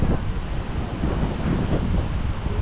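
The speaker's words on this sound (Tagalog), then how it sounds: "Sobrang lakas ng alon." Heavy surf crashing on the Kuwait coast under strong wind, a dense, steady roar of water and microphone wind rumble with no pauses or voices.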